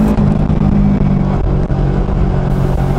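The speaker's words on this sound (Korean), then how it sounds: "바이크 투어 그룹이 제 뒤로 따라붙었습니다." A bike tour group of motorcycles rides past on a road toward Cafe San in Danyang, engines loud and close, a dense rolling roar that shifts as the bikes go by.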